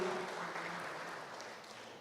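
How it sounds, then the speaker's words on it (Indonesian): Audience applause at an investment manager awards ceremony, a steady, fairly faint wash of clapping that tapers slightly over two seconds. "Boleh tepuk tangan untuk kita semua Bapak Ibu"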